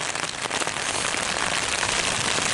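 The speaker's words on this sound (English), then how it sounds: "the rain is hard." Heavy downpour hammers down on Antelope Island amid strong wind, a loud, dense, unbroken wash of rain with no voices.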